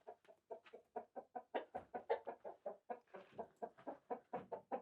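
Broody backyard hen clucking in a rapid, steady series of short, close clucks, about three or four per second, with no voices over it.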